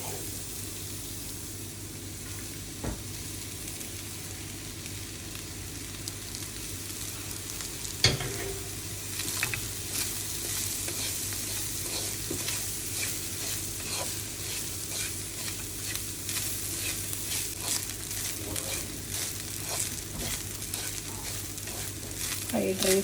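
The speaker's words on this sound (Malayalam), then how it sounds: "കുറേശ്ശെ ചോറിട്ടിട്ട് ഇളക്കാം." Cooked, cooled rice tossed and stirred in a hot pan for vegetable fried rice, a steady sizzle with scraping stir strokes and a sharp clink of the utensil against the pan, continuous and fairly close.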